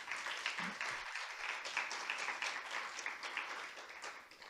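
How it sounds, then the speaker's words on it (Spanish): Sustained applause from an audience at a theology congress, a steady wash of many hands clapping at moderate distance, without pause, welcoming a speaker. "Le recibimos con un aplauso, por favor."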